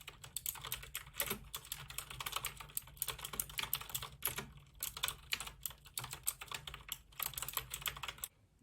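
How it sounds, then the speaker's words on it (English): Fingers type rapidly on a MageGee gaming keyboard, a close, clacky stream of key clicks in uneven bursts with short pauses, heard alone. "Did you hear that click-clackiness of that keyboard?"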